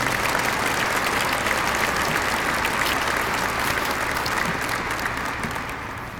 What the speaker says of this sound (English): A round of applause, please, for all of our civic leaders who are here